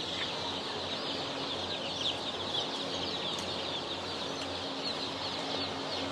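Many chicken chicks at a hatchery cheep together in a dense, continuous high-pitched chorus, steady and fairly close, with no talking.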